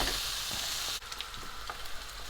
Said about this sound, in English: We're just going to sizzle and let all the oil come out of this chorizo.